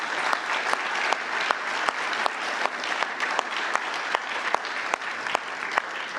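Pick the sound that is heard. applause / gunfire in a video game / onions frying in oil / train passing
applause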